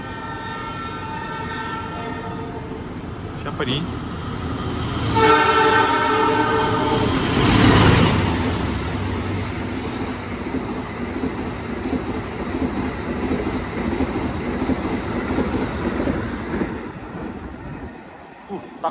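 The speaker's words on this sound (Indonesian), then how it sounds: "Dari sana ada kereta nih yang melintas langsung" An Indonesian passenger train passes close by, horn blaring early, then a loud swelling roar of wheels and cars rushing past that trails into steady rumbling; a brief voice speaks near the start.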